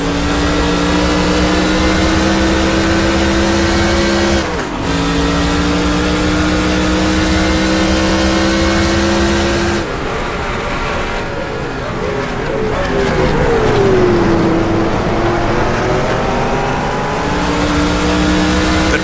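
NASCAR Busch North stock cars in the NR2003 racing game roar steadily at full throttle, several engines droning together with a brief dip near five seconds and an engine-note sweep as the pack runs through a corner.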